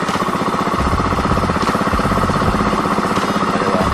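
A Bristol Classic 400i motorcycle engine idles steadily at elevated RPM right after starting, a loud, close, continuous pulsing thump with no talk over it.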